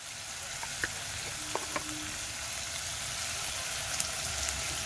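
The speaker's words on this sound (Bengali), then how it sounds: "ভেজে নেবে তেলে ভালো করে পেঁয়াজটাকে ভেজে নিতে হবে" Onion frying in hot oil gives off a steady, dense sizzle and hiss throughout, with a few faint clicks and taps of a utensil against the pan.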